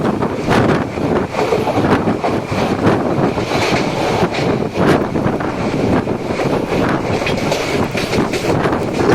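The 13104 Lalgola–Sealdah Bhagirathi Express runs through Kalinarayanpur Junction without stopping. The loud, continuous rumble of the carriages carries rhythmic clickety-clack from the wheels and heavy wind buffeting, heard from on board the moving train.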